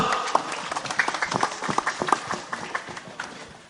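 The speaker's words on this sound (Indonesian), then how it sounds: "Tepuk tangan dong untuk Bapak Dukuh." An audience at a village Merti Dusun cultural gathering in Kulon Progo, Yogyakarta applauds the village head, with sparse, uneven claps from a small crowd that thin out toward the end.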